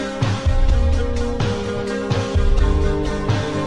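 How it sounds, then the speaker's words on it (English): A song pitched down, a dense, loud full-band mix with heavy low end and a steady beat that plays alone. "So what I did was I pitched that down to this."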